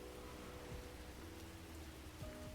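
Rain patters steadily on a car in a video game, a soft continuous hiss of drops throughout with a faint low tonal hum underneath.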